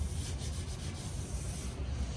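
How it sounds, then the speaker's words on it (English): Light hand sanding of primer on a BMW E28 body produces a steady, close scratchy rubbing with faint, regular stroke pulses. "all you want to do is just do a light sanding"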